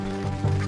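Chicken clucking in The Legend of Zelda: Ocarina of Time 3D, a short honking cackle over a steady tonal game-music hum.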